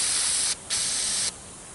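Wasp spray fired from a can straight at a person's face in a self-defense test, two loud close hissing bursts in quick succession separated by a brief gap.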